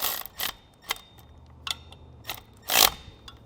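Ratchet or wrench clicks while lightly snugging down bolts on Air Lift LoadLifter 5000 Ultimate air helper springs, five or six separate metallic bursts spaced irregularly, close and fairly loud, with no speech.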